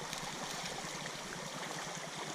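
Water in a small Maine creek runs in a steady, soft rushing babble, close by and quiet, with no voices over it.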